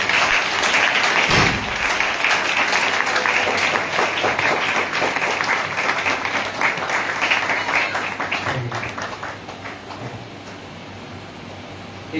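Loud, sustained applause from a church congregation at a wedding service, a dense wash of clapping that holds strong for several seconds before gradually thinning and fading toward the end.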